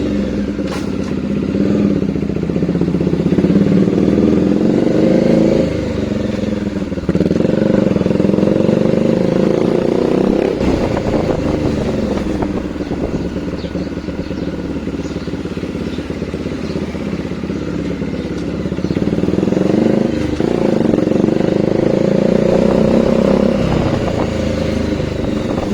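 A Bajaj Dominar 400 motorcycle fitted with a new exhaust idles loudly up close, its deep, steady engine note swelling in a few revs and easing back, with no one talking.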